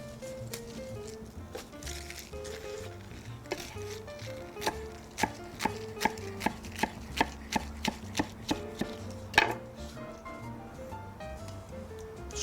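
Fresh basil being chopped for a salad on a cutting board, a run of quick, evenly spaced knife taps that grows steadier and louder midway, close up with soft background murmur.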